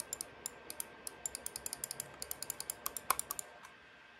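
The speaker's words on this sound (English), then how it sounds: "Right and left click." Crisp, sharp clicks from the right and left buttons of a Logitech G305 wireless gaming mouse, about twenty evenly spaced presses in a quick steady rhythm, close and isolated with no talking.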